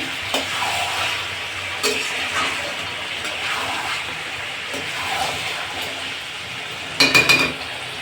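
Chicken curry stirs and fries in a covered pan with a steady close sizzle, repeated scraping strokes of a spoon, and a brief burst of metallic clinks from the pot near the end; nobody speaks.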